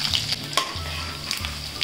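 Garlic sizzling in hot oil with cumin and mustard seeds in a kadhai for sambar tempering, a close, steady crackling fry with small pops and a low hum underneath.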